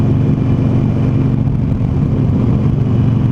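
A Harley-Davidson Sportster Roadster motorcycle engine runs loud and close, a steady low rumble with throbbing exhaust that holds at a constant level through the clip, with no distinct pops standing out.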